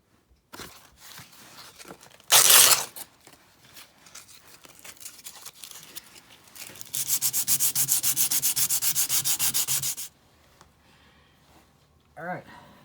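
Sandpaper rubs the black coating off a Cold Steel tomahawk's metal blade, first in a brief burst and then in a rhythmic run of quick strokes lasting about three seconds, close up amid quiet handling noises.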